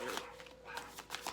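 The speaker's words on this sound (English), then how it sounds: "Sorry about my dogs barking." Dogs barking indoors in a few short, separate bursts spread across a second or so, fairly faint and somewhat muffled, with a murmur of background sound between the barks.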